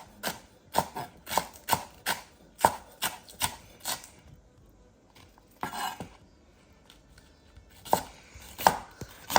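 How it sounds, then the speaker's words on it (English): Knife chopping onion for a chicken salad, cut fairly coarse: a steady run of sharp, close board taps in quick bursts, pausing briefly midway, then resuming with a few more crisp strikes. "I'm not chopping very extreme fine because I want that little bit of crunch."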